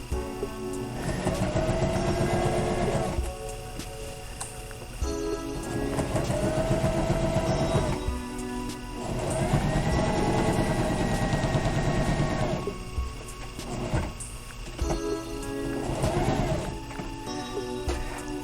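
A sewing machine stitching a vent into a boat cover, a loud rapid mechanical rattle running in long bursts with short pauses between, close up, no talking.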